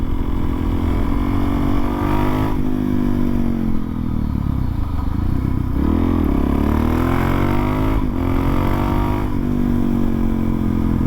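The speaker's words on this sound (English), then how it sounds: "you can hear your exhaust kind of echoing off of the cliff on the side" A supermoto motorcycle engine drones loudly and continuously, its exhaust revving up and down with a reverberant quality, echoing off a cliff beside the road.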